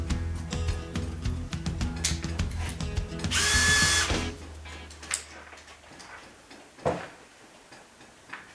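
Power drill working cabinet wood in a log cabinet build: irregular clicks and knocks around a steady motor hum, a brief loud high-pitched whirr in the middle, then sparse taps and bumps.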